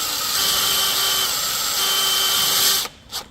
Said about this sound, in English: So we're just going to drill that into position on the